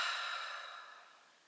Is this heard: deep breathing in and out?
yes